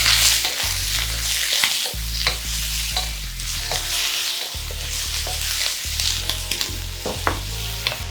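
Vegetables stir-frying in a hot wok for Korean sweet and sour pork (tangsuyuk), with a steady loud sizzle, repeated scraping and clattering strokes of the spatula, and low rumbling from the burner throughout.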